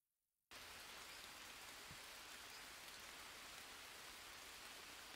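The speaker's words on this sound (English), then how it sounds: "It's still raining, this is amazing." Steady rain in the video game Green Hell starts abruptly and keeps falling in a dense, even hiss, with no other sounds.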